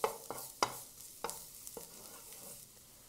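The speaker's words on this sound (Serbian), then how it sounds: "Na zagrejano ulje dodajem beli luk i malo ću ga propržiti." Garlic sizzles in heated olive oil in a pan, a steady hiss broken by several sharp clicks and scrapes of stirring at an irregular pace, close and fairly quiet.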